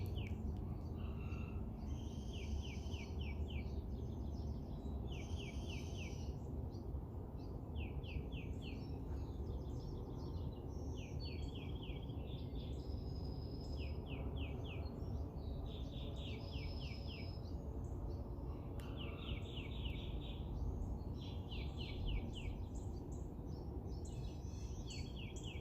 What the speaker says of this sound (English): Listen to the birds waking up.